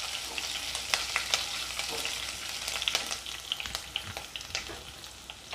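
Garlic and green chillies being sautéed in oil in a pan, a soft continuous sizzle broken by irregular sharp clicks and scrapes of stirring, close and moderately loud with no voices.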